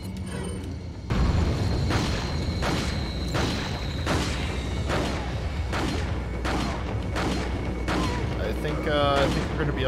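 A series of heavy, booming explosions in Resident Evil 4 repeats roughly every second, with rumbling and mechanical clatter between them and a voice speaking underneath.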